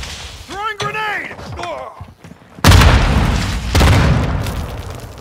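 A grenade detonates in a Call of Duty Modern Warfare 2 team deathmatch, a sudden loud broadband boom that rolls into a long rumbling tail, followed by a second heavy blast; a voice calls out just before the first explosion.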